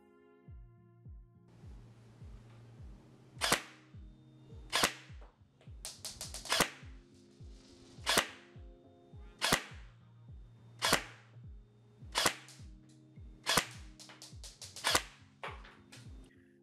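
A Knight's Armament licensed Helios SR-16E airsoft rifle fires 0.25 g BBs during a velocity test. About a dozen sharp, close shots ring out at steady intervals over a low hum.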